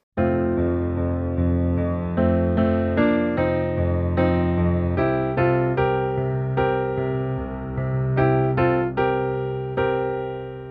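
Solo piano plays the signature phrase of a song with rich sustained chords, struck in clusters and ringing out, loud and close with no voices.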